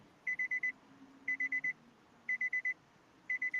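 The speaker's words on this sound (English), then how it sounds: "Somebody got an alarm going off." A car's door-ajar or keys-in-ignition warning chime beeps in quick groups of four, repeating steadily and moderately loud against a quiet background.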